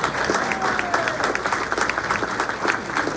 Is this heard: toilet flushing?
no